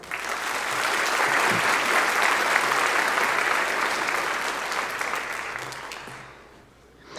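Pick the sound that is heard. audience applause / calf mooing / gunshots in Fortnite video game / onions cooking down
audience applause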